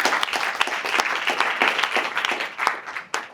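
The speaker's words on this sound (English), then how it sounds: "Give yourself a round of applause." Audience at a talk about starting a YouTube channel claps, with individual hand claps audible within a lively, fairly close burst of applause that swells and fades slightly near the end.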